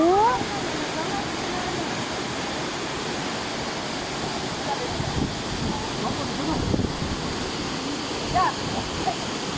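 Talasob Falls roars steadily in a broad, constant wash of rushing water, with gusts of wind buffeting the microphone and brief faint voices in the background.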